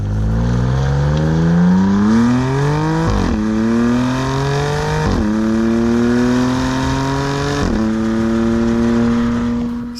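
A BMW M4 CS accelerates hard, its engine revving loud and close in rising sweeps, with three sharp gear-change breaks as it climbs through the gears, no talking.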